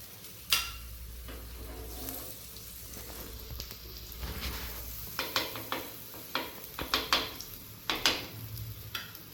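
Ragi roti fries in ghee in a pan, a faint, steady sizzle broken by occasional sharper crackles and spatters.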